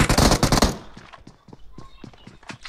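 Gunfire in the mobile battle game PUBG Mobile opens with a loud, rapid automatic burst, then gives way to scattered quieter single shots and small impacts.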